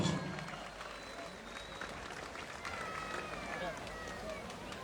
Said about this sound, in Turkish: Fatih sonrası alkışlar Emin Soğuk için geliyor.